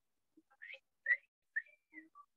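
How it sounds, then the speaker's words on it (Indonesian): A person whistles a short, airy tune of several separate notes and brief phrases, clear and close with silence between them. "Orang kalau bersiul"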